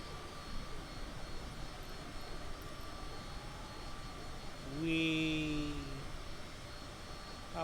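A private jet's engines in Microsoft Flight Simulator produce a steady, faint turbine hum, with a brief swelling whine partway through as the engine note rises.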